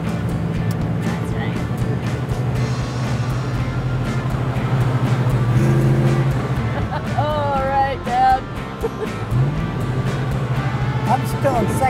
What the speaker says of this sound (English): I'm still in second gear again.